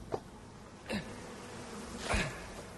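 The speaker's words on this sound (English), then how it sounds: "There is bees here though" Low bee buzzing in the video game ICARUS hums steadily in the background, with a few brief louder swells as something passes close by.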